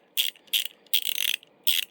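Rapid clicking bursts from a Craftsman 1/4 inch ratchet, four short loud spells of ratcheting with brief pauses between, close up and sharp.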